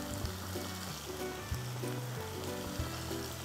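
Ingredients for a prawn and drumstick seafood gravy fry in a pan, giving a soft, steady sizzle throughout, fairly quiet, over a low tonal hum.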